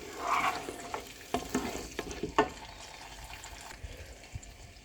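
Mutton cooking with two cups of yogurt in a pan over medium-high heat, a soft, steady sizzle broken by a few sharp scrapes and clinks of a spoon stirring, fairly faint and without talk.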